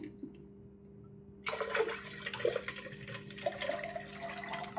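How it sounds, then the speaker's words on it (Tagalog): After a brief quiet moment, water pours steadily into a container of blue pea juice, a close, splashing stream that continues to the end. "lagyan na natin ng tubig"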